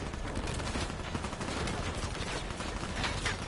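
Sustained suppressing gunfire from Call of Duty: Black Ops 3 roars without a break, loud and dense throughout as a continuous fusillade of rapid shots with no talk over it.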